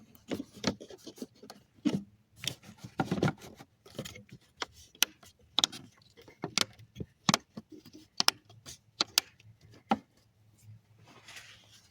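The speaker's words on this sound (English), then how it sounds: "put your airbox cover back on" Plastic airbox cover on a Polaris Sportsman 500 H.O. ATV being fitted back into place, giving a scattered run of sharp clicks, snaps and light knocks from close by, with soft handling rustle in between and no talking.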